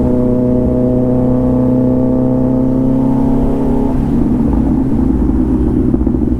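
A Kawasaki Z900 superbike engine hums with a steady, tonal drone, then breaks midway into a rougher, louder rev that carries on to the end. It sounds close, with no talking.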